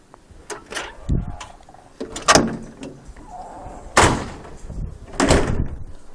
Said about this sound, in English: That's just the door I was telling you guys about.